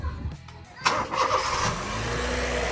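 A 2011 Honda Jazz GE8 RS facelift engine cranks briefly, then catches and settles into a steady low running hum, close and moderately loud, with no talking.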